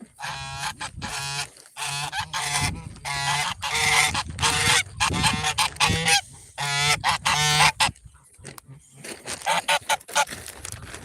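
A pet goose honks loudly and repeatedly at close range, its nasal harmonic calls coming in rapid bursts with short gaps throughout, joined by other birds calling nearby.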